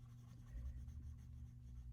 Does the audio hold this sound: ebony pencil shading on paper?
yes